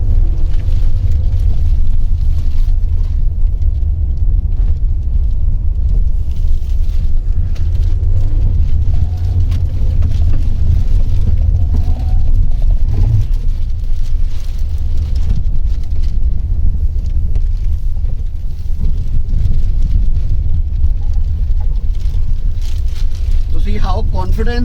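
Inside a Mahindra XUV700 crossing uneven, undulating road, a constant low rumble of road and tyre noise fills the cabin with small thumps, loud and steady throughout with no talking.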